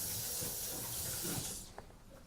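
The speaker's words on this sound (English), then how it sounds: "Now we pour the water back. We rinse." Water poured back into a basin and rinsed during foot care, a steady close splashing rush that cuts off after about a second and a half, followed by faint drips and handling.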